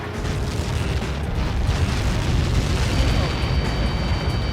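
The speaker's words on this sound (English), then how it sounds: "How many got caught in that explosion?" A missile explosion in the combat flight game Ace Combat 7, heard as a sustained deep rumbling blast that rolls on steadily for several seconds with a broad roar and no voices.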